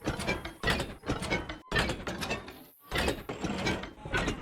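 A copper chest in Minecraft opening and closing repeatedly, a quick series of close creaky, ratcheting clunks in a steady rhythm with short gaps, alone and clear.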